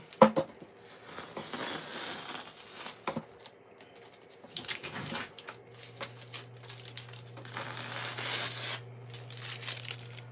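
Tape torn and pulled from a roll at an acrylic painting easel, with several crinkly ripping bursts and rustles spread over the stretch, close and fairly quiet against a low background hum.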